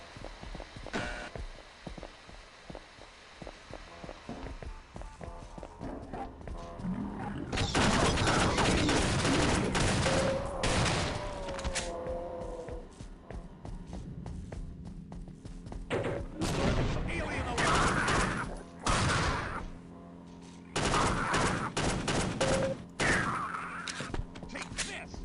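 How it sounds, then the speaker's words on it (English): Glock pistol fired in bursts in a Half-Life mod game, loud rapid clusters of shots arriving in several separate volleys amid other gunfire and game noise, with a voice speaking in between. "Very Counter-Strike pistol of the burst fire."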